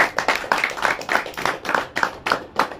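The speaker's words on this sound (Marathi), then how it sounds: "त्यांच्यासाठी एकदा जोरदार स्मरणीय टाळ्या झाल्या पाहिजेत." Audience clapping at a poetry gathering, a short run of fairly quick, irregular hand claps from a small crowd at moderate volume, with no talk over it.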